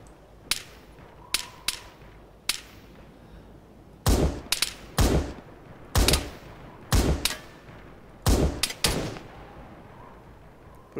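Gunfire in Arma 3: sharp, cracking rifle shots with echoing tails, some single and some in quick pairs or bursts, spaced irregularly, loud against a quiet background.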